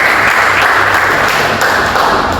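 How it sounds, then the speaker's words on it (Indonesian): An audience claps for a presenting group at an Indonesian lecturer certification teaching session, a short, dense burst of applause with a steady wash of hand claps and no clear voices. "beri tepuk tangan dulu buat kelompok 3"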